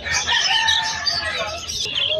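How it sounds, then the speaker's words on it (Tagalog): A rooster crows loudly and close among a crowd of chickens, including large Giant Cornish birds, with overlapping clucks and calls over about two seconds. "Ang dami manok oh."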